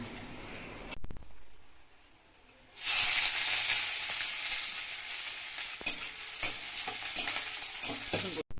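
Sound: dal added to sizzling tempering

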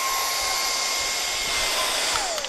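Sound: Kyvol cordless vacuum cleaner running

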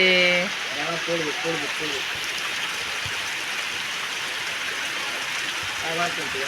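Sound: heavy rain falling outdoors

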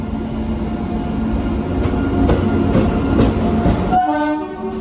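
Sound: train running on rails

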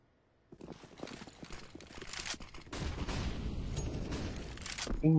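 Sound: gunshots in a competitive shooter video game match

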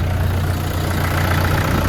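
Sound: Kentavr S 504CU tractor engine started and idling

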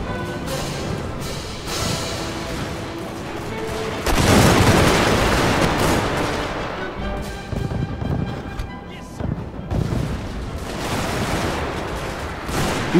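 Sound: artillery firing in Steam & Steel mod video game

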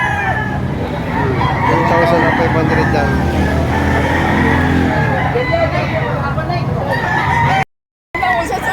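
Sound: rooster crowing at chicken market

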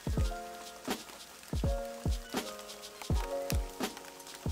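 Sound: rain falling on a canopy

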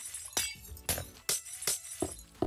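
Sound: glass panes being broken in Minecraft video game

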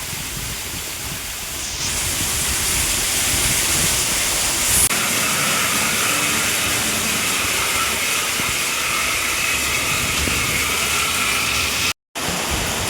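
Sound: floodwater rushing along a road after heavy rain

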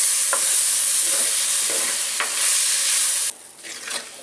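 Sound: sautéing tomatoes in a clay pot

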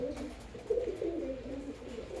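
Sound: pigeons cooing in a loft

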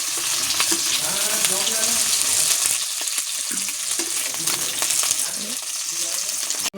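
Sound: fish frying in oil

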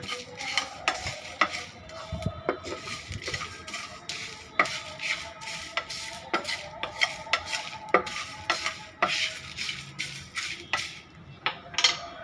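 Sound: stirring and frying mango pickle sauce

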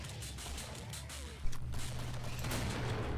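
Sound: pistol gunfire in the video game Killing Floor

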